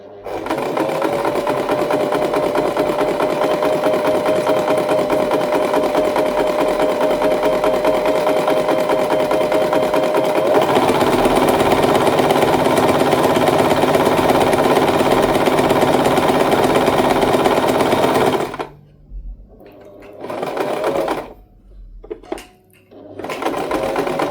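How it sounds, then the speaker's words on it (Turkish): A sewing machine runs steadily and loudly for about eighteen seconds, stitching thin muslin held taut for a ruffled collar and cuff, then stops, followed by a few brief bursts. "tülbent kumaşı olduğu için şöyle tutarak çekerek dikiyorum"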